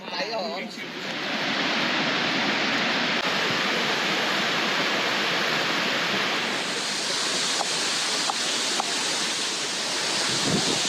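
A waterfall at a paid-entry nature site with fallen trees nearby roars as a steady, dense wash of close water noise that carries on throughout, with a faint voice underneath.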